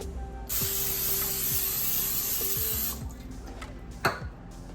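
A steady hiss of cooking spray onto a foil-lined cookie sheet runs for a couple of seconds, followed by light clicks and a soft metallic clatter nearby.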